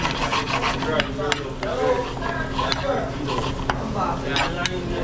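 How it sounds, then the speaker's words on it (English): Shrimp sauté in a pan in a busy Jamaican restaurant kitchen in Toronto, a steady close sizzle with scraping and clattering of utensils, while people talk over it. "Yeah, there's some saute."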